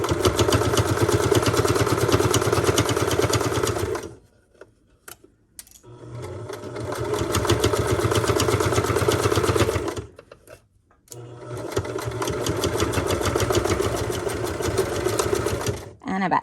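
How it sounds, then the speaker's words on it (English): Home sewing machine stitching through several thick layers of bias tape, running loud in three long bursts separated by short pauses, with a strained, laboring drone. "Sometimes machines do make a lot of noise when you are sewing through several layers."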